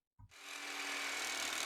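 A chainsaw in a zombie survival video game revs up after a short low sputter, settling into a loud, steady buzzing drone with no talk.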